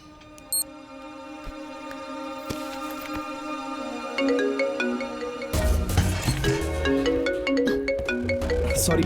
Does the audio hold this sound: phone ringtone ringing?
yes